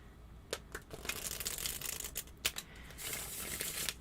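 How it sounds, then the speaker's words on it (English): Tarot cards being shuffled in a quiet ASMR setting: soft, crisp papery snaps and flicks scattered through the first seconds, then a denser, continuous riffling rustle toward the end, close and delicate with no talking. "I'm almost done shuffling your cards"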